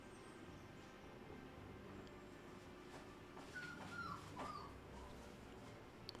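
A three-month-old puppy whimpers faintly in the background, with thin high whines around the middle of an otherwise quiet, hushed room.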